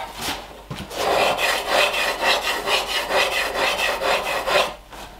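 Smoothing plane blade being sharpened by hand, a rhythmic abrasive rubbing stroked back and forth about a dozen times at close range, alone and fairly loud.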